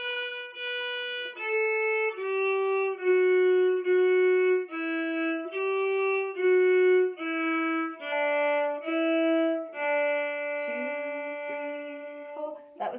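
A string instrument plays a slow beginner lesson melody, one sustained bowed note after another in an even rhythm, close and clear with no talking, ending in a longer held note.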